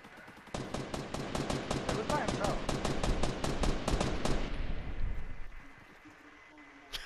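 Rapid automatic gunfire from a Fortnite battle royale match, a loud sustained burst of evenly spaced shots lasting several seconds before trailing off into quieter game ambience.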